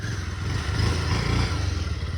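A 180cc motorcycle crosses a stream. Its engine drones steadily and close for a couple of seconds, with rushing water and clatter mixed in, and no talking.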